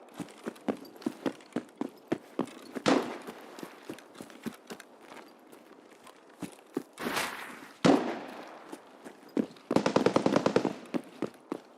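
AK rifle gunfire in the video game Escape from Tarkov: scattered sharp single shots, fairly faint and distant, then a rapid burst of automatic fire near the end.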